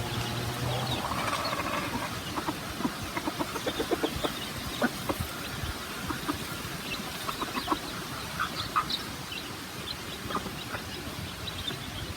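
Several hens, seven of them, clucking in a backyard coop, with soft repeated clucks and short calls scattered throughout over a steady ambient background, fairly close by, with no talking.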